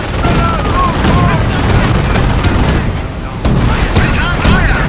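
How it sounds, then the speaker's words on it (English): Machine gun fire in a Company of Heroes: Opposing Fronts battle, a dense continuous chatter of automatic shots packed with other battle noise, loud throughout with voices shouting over it. "Machine gun! Spread out!"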